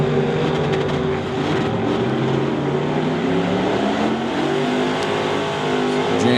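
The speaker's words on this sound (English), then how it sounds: "Driving a dragster to figure out how to race against them and beat the dragster." A dragster engine roars as it revs and accelerates down a drag strip during a testing day, a steady loud drone with shifting harmonics lasting several seconds and no voices over it.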